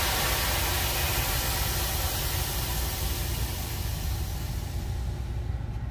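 Air ride suspension on a Tesla Model 3 releasing air, a loud steady broadband hiss that holds for several seconds and thins slightly at the end, with no talking.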